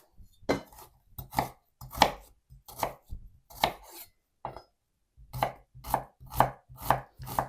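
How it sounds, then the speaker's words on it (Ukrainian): Onions being chopped with a knife on a board while making a steamed Uzbek khanum roll filling, a steady series of close, crisp thuds in quick bursts with short pauses between. "Тепер і туди, і туди я зараз наріжу цибулі."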